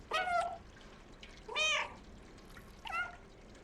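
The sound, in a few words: cat meowing in video game Stray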